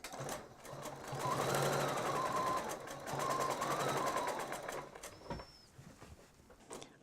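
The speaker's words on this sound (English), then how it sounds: "we're going to quilt a little edge around the outside, about 1/4 inch" A Bernina 820 sewing machine with a BSR foot free-motion quilts an edge about a quarter inch around a pattern, its needle giving a rapid, even mechanical chatter in two close bursts, then slowing and stopping amid a few soft clicks.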